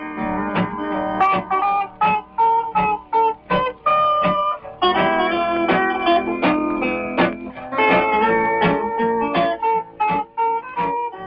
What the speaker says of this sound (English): what you just heard was actually this guitar